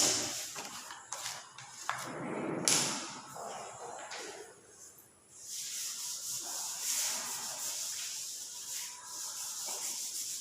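Eraser rubbed back and forth on a worksheet page, giving soft scratchy strokes in uneven bursts, close and fairly quiet, with brief pauses between rubs and no talk.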